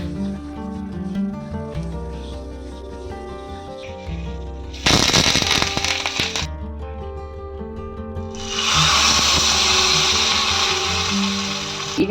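Mustard seeds and curry leaves hit hot oil for a Konkani curry, bursting into loud bright crackling and spitting in two strong close bursts over a background of music.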